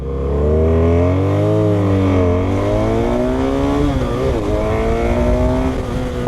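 A 2017 BMW F800R motorcycle accelerates hard from standstill toward 100 km/h. The close, loud engine note climbs steeply, dips briefly at a gear change, then rises again.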